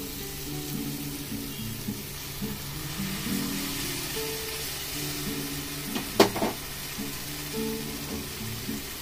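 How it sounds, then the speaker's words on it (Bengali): Ground mustard paste goes into a pan of fried tomatoes for a Bengali fish dish, with a steady close sizzle throughout and a brief sharper crackle and clatter partway through. "এবারে দিয়ে দেবো সর্ষে বাটাটা।"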